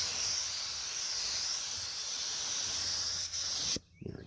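Steady close hiss of a spray gun painting a car body, continuous for several seconds with a brief dip near the end before cutting off abruptly into quiet.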